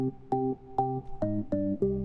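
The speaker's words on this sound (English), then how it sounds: "I found this low gravity organ bass." Low gravity organ bass patch played in Logic Pro X, a series of about six short, bright organ chords in an uneven rhythm, moderately loud and alone.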